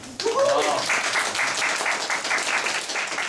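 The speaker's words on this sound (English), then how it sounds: "I think they both deserve a big round of applause" An audience breaks into sustained, dense applause at a talk event, steady clapping that starts abruptly and continues throughout, with a voice briefly heard over the opening.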